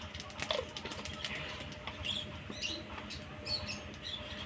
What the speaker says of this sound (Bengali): জিরে ফোড়ন দিয়ে দিই।